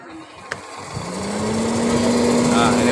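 A rewound capacitorless centrifugal snail blower motor starts with a click and spins up, its steady hum rising and settling into a constant whine, close by, as someone talks over it.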